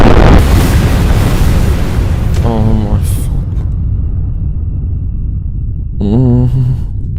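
A rocket shot in the game Factorio explodes with a loud, rumbling boom, followed by a long decaying roar and scattered electronic game tones.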